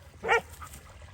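A single short, sharp bark from a cow-dog mix, fairly close and moderately loud, then quiet.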